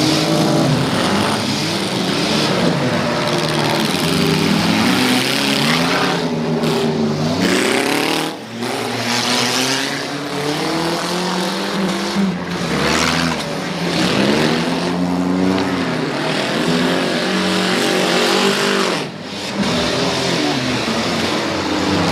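Demolition derby cars race around a dirt track and bash into one another at a hairpin, engines revving hard and loud without pause, with rising and falling roars and occasional dull impacts.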